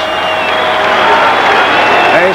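A college basketball arena crowd at the 1982 NIT Finals between Bradley and Purdue, reacting loudly with sustained roar and applause as Bradley's 6'9" senior center Donald Reese leaves the game, under an announcer's voice.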